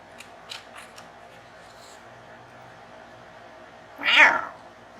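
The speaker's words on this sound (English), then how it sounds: "Not a happy kitty." An unhappy cat lets out a single loud, drawn-out meow near the end, standing alone after a few faint light taps and a quiet background.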